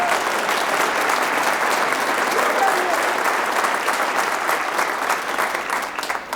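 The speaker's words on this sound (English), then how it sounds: "go ahead and applaud" A concert audience at a university spring band and orchestra concert applauds a graduating senior, steady dense clapping that holds for several seconds, then begins to thin slightly toward the end, with murmured voices mixed in.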